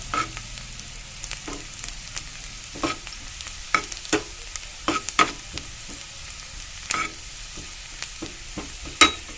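Diced garlic fries in a pan with a steady low sizzle, broken by frequent sharp scrapes and clinks of a utensil stirring it, close and fairly quiet, with no voices.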